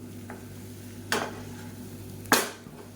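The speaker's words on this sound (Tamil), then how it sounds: "இப்படியே நல்லா ரோஸ்ட் ஆகட்டும் ஓப்பன் லிட்லேயே வச்சு நல்லா ரோஸ்ட் பண்ணி எடுத்துக்கலாம்" Brinjal and potato roasting in oil in an open pan, with a low steady sizzle under two sharp scraping stirs about a second apart.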